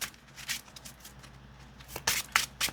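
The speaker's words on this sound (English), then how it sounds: "We're going to shuffle cut" A deck of cards shuffled by hand, heard as soft riffling bursts early on and then a louder cluster of crisp flutters near the end, close and otherwise quiet.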